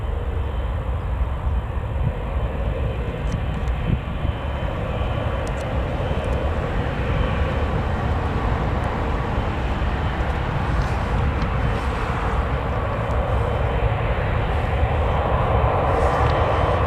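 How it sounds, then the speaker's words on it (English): An Emirates airliner taxiing at Newcastle Airport gives a steady, broad engine rumble and whine that holds evenly at a distance for the whole stretch, with no talking. "So Emirates is starting a taxi"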